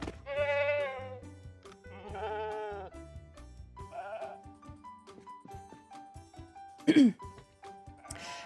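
Livestock calls from the Project Zomboid video game, voiced as cows: several long, loud, wavering bleat-like moos, with scattered clicks and a brief harsh throaty burst near the end.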